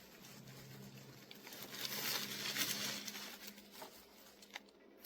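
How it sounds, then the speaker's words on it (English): Plastic wrapping is pulled and crinkled off a new wireless mechanical keyboard, giving a soft, continuous rustle that swells in the middle and includes a few sharper crackles near the end. "Take the plastic off. And it does come wrapped in a plastic bag as well."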